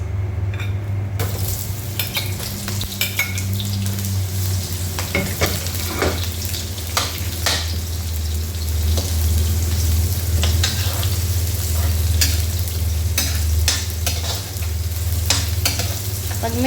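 Chopped onion sautéing in hot oil in a pan, a steady loud sizzle with frequent scraping and clinking of a spatula stirring against the metal, no voices.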